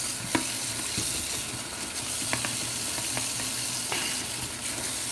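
Paint brushes swish and stir in a water pot, with soft splashes and a few sharp clinks against the container, close and steady with no talking.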